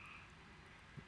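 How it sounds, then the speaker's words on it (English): Frogs croak outside at night, faint and distant, blending into a steady background hiss with one brief low croak standing out near the end; no talking. "I can hear the frogs outside."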